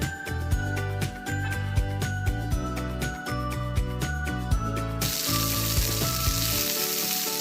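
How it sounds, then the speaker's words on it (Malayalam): Coconut oil goes into a very hot pan while cooking Malabar kappa biryani. Sharp metallic clinks and scrapes come first, then a loud, continuous sizzle takes over for the last couple of seconds. "ഇതിൽ നമുക്ക് നല്ല വെളിച്ചെണ്ണ ഒഴിച്ചു കൊടുക്കാം"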